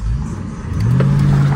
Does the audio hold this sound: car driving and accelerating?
yes